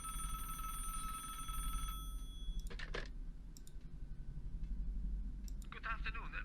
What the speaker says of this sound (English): It's a telephone. I will answer it, Otto.